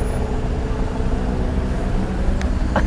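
Vehicles in a slow Dubai traffic jam near the Burj Khalifa give a continuous broadband roar and low rumble, heard close and fairly steady, with a couple of brief higher chirps near the end.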